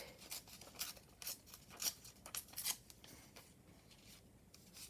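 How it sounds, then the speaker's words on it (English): Paper is torn slowly along its edge for a handmade journal cover, a series of faint, close, crisp rips coming in short bursts, then fading into quiet. "Now I'm just going to rip this edge."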